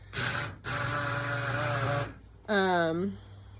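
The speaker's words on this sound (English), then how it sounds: "So I'm immersion blending it so that it breaks like the cell wall the most." An immersion blender whirs through plantain with a steady, tonal motor whine, cuts out briefly, then restarts in a second short burst whose pitch shifts as it runs.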